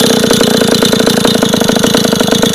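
A Go-Ped motor scooter engine buzzes loudly and steadily while riding through town, with a rapid, even pulsing firing rhythm close to the rider.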